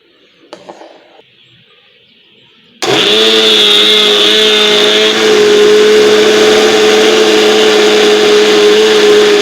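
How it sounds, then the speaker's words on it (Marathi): An electric mixer grinder whirs into loud, steady high-speed blending of pistachio almond ice cream after a few faint handling clicks, running continuously close by. "मी काय करणार आहे मिक्सरच्या भांड्यामध्ये हे टाकून पुन्हा ब्लेंड करणार आहे"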